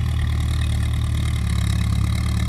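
A Ford 6610 tractor engine runs steadily, a deep continuous idle-like rumble with no pauses, heard out in a rice field during plowing.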